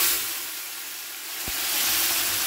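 Grated bottle gourd is tipped into hot oil spiced with bay leaf, dried chilli and five-spice, setting off a loud steady sizzle with a sharp thump of the addition midway, no talk.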